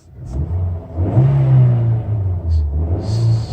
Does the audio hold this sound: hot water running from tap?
no